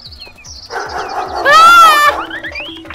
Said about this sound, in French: Éloigne ce sale cabot de moi, elle a complètement perdu la tête.